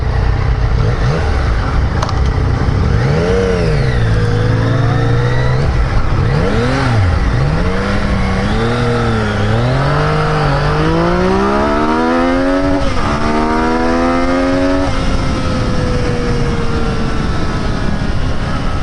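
A Yamaha FZ-09 motorcycle accelerates hard from a standstill to about 80, its engine note climbing through rising revs with gear changes, loud and continuous against wind rush.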